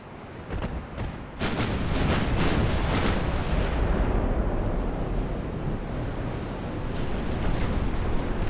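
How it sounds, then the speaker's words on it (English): A warship's naval broadside cannon fire in Ultimate Admiral: Dreadnoughts, an 1890 Italian fleet battle: a quick burst of heavy booms that swell into a sustained, loud rumbling roar, with no voices. "Ooh, nice broadside there."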